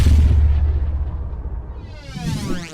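Underground Racing intro sound: a heavy booming blast with deep low rumble that swells and fades, then a rising whooshing sweep toward the end, loud with no voices.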